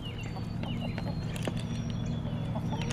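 Homestead chickens being fed tall grass, clucking and chattering nearby, several overlapping short calls over a steady low background hum.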